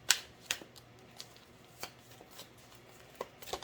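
Tarot cards are handled and shuffled in sparse bursts, giving crisp riffling snaps and soft slides separated by quiet pauses, close and fairly faint.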